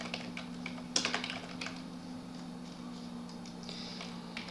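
Code being typed on a computer keyboard: a quick cluster of sharp key clicks near the start, then lighter, steady keystrokes close by, with no talking.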